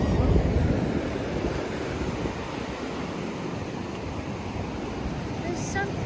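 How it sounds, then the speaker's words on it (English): Ocean surf rolling onto the beach at Ocean City, New Jersey, a broad steady wash of breaking waves mixed with wind buffeting the microphone, loudest at the start. "There's something soothing about hearing the seagulls and the waves when you're not at the beach."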